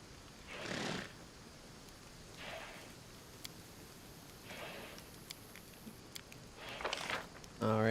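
Horses in the video game Pathfinder: Wrath of the Righteous give several faint, breathy neighs and whinnies, spaced a couple of seconds apart over a quiet ambient bed, with a brief louder tone at the very end.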